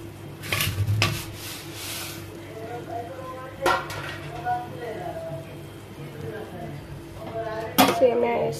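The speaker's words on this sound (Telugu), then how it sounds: "సేమియా వేసుకొని లో ఫ్లేమ్లో పెట్టి ఇట్లా మంచిగా కలపాలి." Vermicelli being stirred in a pan over a low flame: intermittent metal scrapes and clinks of a spoon against the pan over a soft background, with a person talking.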